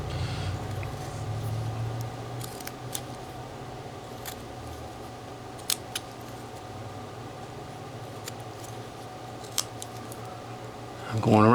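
A knife whittles a small 3-inch figure from a block of wood, with faint, sparse snicks and scrapes of the blade under a person speaking and steady background hum.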